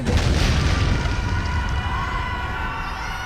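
A heavy bomb blast opens with a loud deep boom, then a rumbling roar slowly decays, with a rising wailing tone emerging in the tail.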